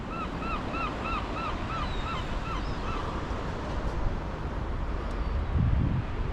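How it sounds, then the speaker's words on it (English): Gulls call repeatedly at a fishing spot on a bright day, a steady run of harsh cries over strong wind rumble on the microphone. "Lots and lots of gulls."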